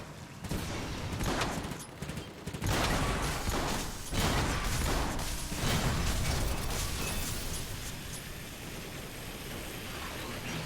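Weapon fire in Transformers War for Cybertron, shotguns among the guns, comes as a run of loud repeated blasts over the first several seconds, then settles into a dense continuous battle din.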